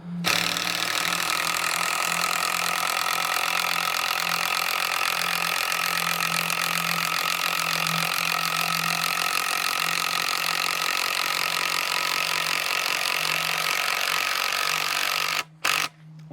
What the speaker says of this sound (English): Obviously the timber's quite wet as well, so that's going against the drill as well.